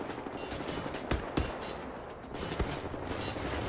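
Gunfire in the video game Wolfenstein: The New Order, a dense wash of shooting with a few sharper individual shots standing out, loud and continuous without speech.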